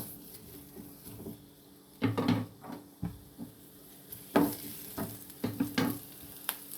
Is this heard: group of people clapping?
no